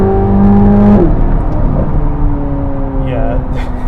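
Corvette C8 Z06 without the Z07 package accelerating hard from inside the cabin, engine tone rising steadily under a voice at first, then a dense broadband roar that builds and holds.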